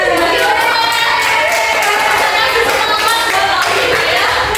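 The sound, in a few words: classroom applause for a student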